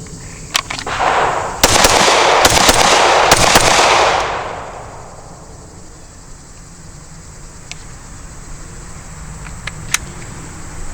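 Gunshots fired at targets on an outdoor shooting range, with about six sharp cracks in quick succession followed by rolling echoes, then a few distant shots over a quiet background buzzing with insects.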